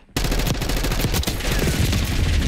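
XM4 rifle fire in Black Ops 6 breaks in suddenly and loudly, then continues as dense, overlapping bursts of gunfire and explosions from a chaotic multiplayer match, with no gaps.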